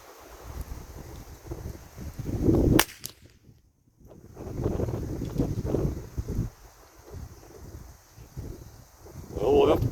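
Single sharp crack of a Keystone 722PT rifle firing SK ammo outdoors on a gusty day, a brief loud burst amid wind noise and light rustling, with people talking before and after.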